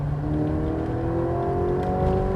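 A sports car engine revs upward in a rising whine as it accelerates hard on a track, loud and close, with no voices.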